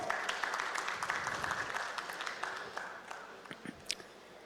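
At a panel introduction, an audience claps to welcome a speaker, the applause fairly faint and diffuse, tapering toward the end with a few scattered, distinct claps.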